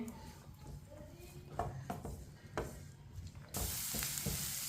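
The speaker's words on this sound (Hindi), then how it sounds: "इसे ऐसे ही चम्मच लाते हुए पकाना है" Vegetables fry in a pan for an aloo samosa filling, stirred with a spoon that scrapes and taps against the metal at a few points, a soft sizzle running beneath and swelling louder near the end.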